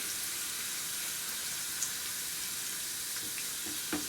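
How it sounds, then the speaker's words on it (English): Cloves frying in oil in a pan for spinach baqoola, a steady bright sizzle throughout with a few faint clinks, no talk. "You don't need to fry too much because you don't want to burn the cloves."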